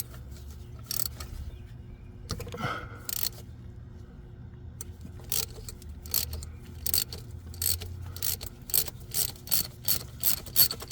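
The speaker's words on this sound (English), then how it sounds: "Insert your socket with extension and loosen the spark plug." A socket ratchet with extension loosens a spark plug on a Honda Accord 2.4L engine, making steady clicking pawl ratcheting in quick repeated runs, close and moderately loud, with soft metallic handling noises between.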